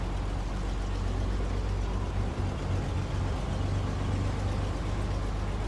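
A truck engine in a driving video game chugs with a steady low, heavy rumble that runs unbroken and fairly loud from start to finish.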